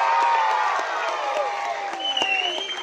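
An audience claps and cheers for a group of dancing mothers at a Children's Day dance show, with whoops and voices mixed into the steady clapping throughout.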